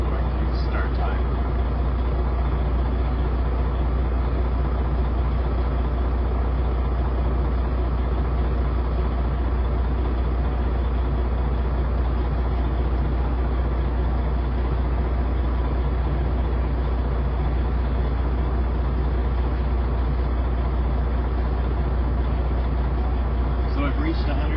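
A truck's diesel engine idles steadily at low RPM while its air brake system builds pressure, a constant low rumble running unbroken for the full length with no other prominent sounds.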